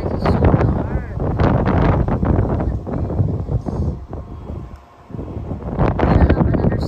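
Strong wind buffets the microphone in heavy rumbling gusts at night under dark storm clouds, easing briefly before surging again, with a voice faintly mixed in.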